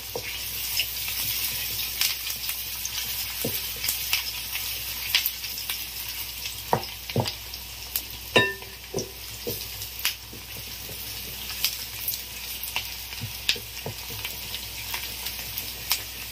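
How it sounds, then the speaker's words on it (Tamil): Small onions and grated coconut fry in a pan with a steady crackling sizzle, broken by sharp pops and spatters, heard close and alone. "வெங்காயம் நல்லா பொரிஞ்சிருச்சு"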